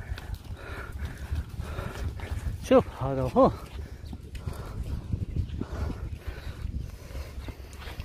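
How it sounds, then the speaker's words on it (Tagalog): Horses in the desert amid shouting handlers, with a couple of brief whinny-like calls and faint hoof sounds under repeated calls and talk outdoors. "nahirapan kami manghuli ng Kabayo kasi yung Kabayo takbo lang siya ng takbo"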